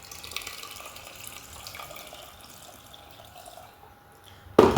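Water runs into a pot for spiced tea made with cinnamon and cloves, a quiet, steady trickle that ends in a sudden, louder splash.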